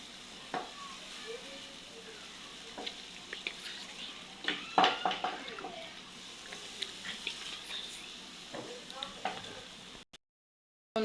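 A vegetable bhaji sizzling in a pan while being stirred, with soft continuous frying hiss and a series of sharp scraping and clinking spatula strokes, close up, ending abruptly in near silence.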